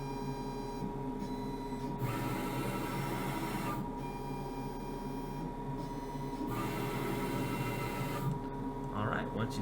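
A PhCnC CNC machine homes its Z axis with a whirring motorized drone that runs in stretches broken by short pauses, close by, and a voice may speak briefly over it.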